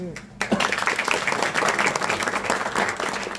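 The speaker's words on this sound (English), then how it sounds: "Round of applause." A crowd at a Guinness Perfect Pour 2022 session in Kuala Lumpur bursts into applause after a short pause and keeps clapping steadily, with some voices mixed in.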